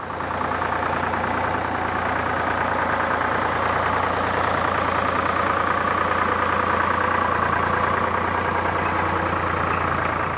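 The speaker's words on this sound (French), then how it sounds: "Le tracteur qu'on vient de voir passer" A heavy tractor engine passing close by, a loud, constant diesel rumble that holds steady throughout.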